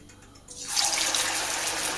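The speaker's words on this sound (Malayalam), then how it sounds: "കട്ട്ലേറ്റിൽ നിന്ന് ഓരോന്ന് എടുത്തിട്ട് നമുക്ക് ഈ മൈദമാവിലൊന്ന് മുക്കിയങ്ങായിട്ട് നമുക്ക് എണ്ണയിലേക്ക് ഇട്ട് കൊടുക്കാം" Potato cutlets coated in maida batter go into hot oil, and a quiet background suddenly swells into a loud, dense, rushing hiss of vigorous frying that holds steady, with no one speaking.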